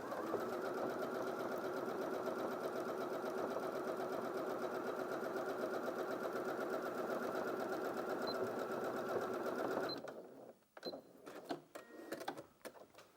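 A Janome DKS100 sewing machine stitches fabric at a steady, fast, even whir for about ten seconds, then stops, leaving a few light clicks and handling noises.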